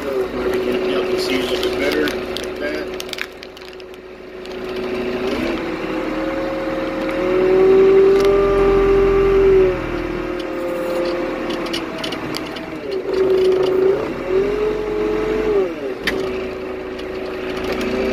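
A vehicle engine on a fence line road cleaning job revs and changes gear, its steady drone stepping in pitch near 5, 8 and 13 seconds while staying loud and close throughout.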